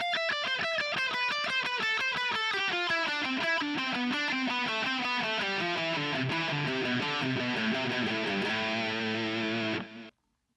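An electric guitar with heavy distortion plays a fast, evenly alternate-picked melodic exercise, a steady stream of bright picked notes stepping downward for about ten seconds before stopping abruptly.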